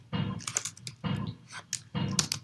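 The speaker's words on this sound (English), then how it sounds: "I'm going to type it like this" Computer keyboard typing while entering a C format string, heard as three short, close bursts of quick key clicks about a second apart, quiet and with no talk over them.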